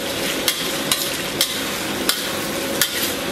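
Soaked chili and Sichuan peppercorns stir-fried in an iron pot, a steady sizzle of hot oil broken by regular metallic clinks of the spatula against the pot.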